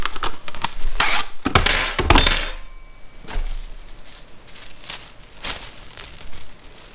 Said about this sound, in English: And then I'll put that in a plastic bag.